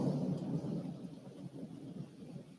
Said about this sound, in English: the thunder has to be real loud for the phone to actually pick it up